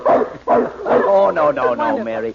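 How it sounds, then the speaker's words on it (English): A large dog named Happy in an old radio drama lets out a string of barks and yips that stretch into a whimpering whine, close and loud, with a short line of speech at the start. "Oh, Charlie, what is that? A dog."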